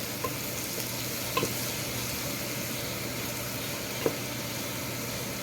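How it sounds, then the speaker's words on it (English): Grandma's sauce stirred in a pan over the heat, a steady soft sizzle and bubbling with a few faint spoon taps against the pan, close, even and without voices. "And I'm going to stir that."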